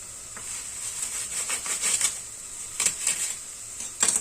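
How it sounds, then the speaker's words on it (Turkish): Tomato paste, onion and garlic frying and being stirred in a pan: a steady soft sizzle with intermittent scraping stir strokes, quiet and close. "Güzelce kavurduğum salçamı, soğanımı, sarımsağımı şöyle bir daha çeviriyorum."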